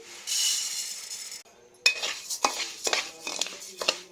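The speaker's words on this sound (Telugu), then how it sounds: "బియ్యం వేపేసుకుందాం" Raw ration rice dry-roasting in a pan, a dry rustling hiss followed by a run of clinks and scrapes as a spoon stirs it against the metal, close and fairly quiet with no talking.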